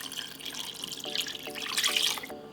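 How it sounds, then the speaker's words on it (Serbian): A litre of water poured into a cooking pot holding chicken skin and bones, a steady close splashing stream that rises in intensity toward the end and then cuts off, with no talking. "naliću litar vode."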